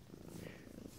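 A house cat purrs softly and steadily at close range, a faint low rumble with no talk over it.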